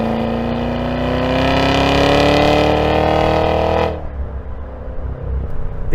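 A 2023 Cadillac Escalade V with an AWD, supercharged 6.2L V8 pulls hard in sport mode, its engine note rising steadily for about four seconds before easing off to a lower, rougher drone.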